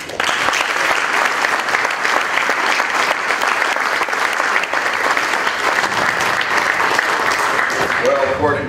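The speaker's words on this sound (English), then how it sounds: "Let's give Scott a round of applause." Audience applause at a lecture on the 2016 election and polling, thanking the speaker with a dense, even wash of clapping that holds steady for several seconds before a voice starts at the very end.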